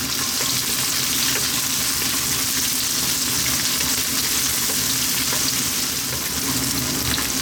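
Onion stir-frying in a pan over maximum heat, a loud, steady sizzle with a constant hiss and faint stirring scrapes throughout, no talking.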